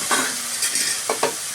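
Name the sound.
stirring tomatoes frying in a pan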